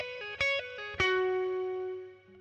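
An electric guitar plays a short hammer-on and pull-off phrase from the second solo of a song, a few quick distorted notes ending in one sustained ringing note that fades out.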